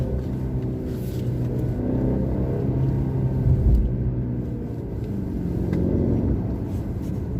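A Mercedes-Benz C300 of the sixth-generation C-Class, driven in Sport Plus mode, gives a steady low engine and road rumble from inside the cabin, swelling slightly mid-run with no talk.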